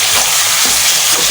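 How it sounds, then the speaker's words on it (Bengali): Chicken frying in oil over a high flame for butter masala gives a loud, steady broadband sizzle with irregular crackles, close by, with no talk over it. "এই চিকেনটা আমি তেলের ওপর দিয়ে চিকেনটা ভেজে নেব। হাই ফ্লেমে চিকেনটা"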